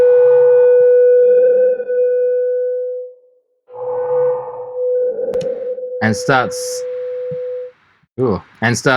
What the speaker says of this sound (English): if I crank this all the way up with this analog filter type, it'll actually self-oscillate